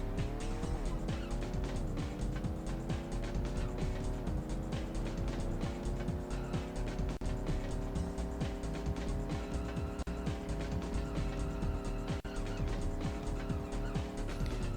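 Race cars from the N64 game San Francisco Rush 2049 roar with a steady, loud engine drone that shifts pitch as they accelerate, with brief tire squeals and skids mixed in and game music underneath.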